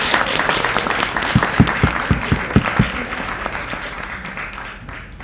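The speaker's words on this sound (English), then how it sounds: "Please give everyone here a big round of applause." Audience applause at a university student government vice presidential debate, a moderate crowd clapping steadily for a few seconds with some sharper individual claps, then fading out toward the end.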